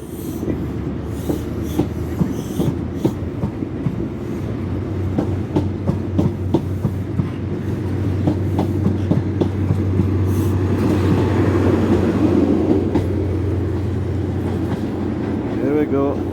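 A train pulls out of Inverness station, its engine rumble and wheel clatter building steadily as it gets underway, heard close under someone talking.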